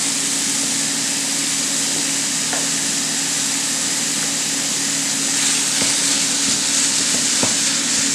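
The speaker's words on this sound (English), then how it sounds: "Just add the beef right into the pot." Ground beef browning in a pot for homemade spaghetti meat sauce gives a steady, fairly loud sizzle with a few faint stirring scrapes, heard alone without talk.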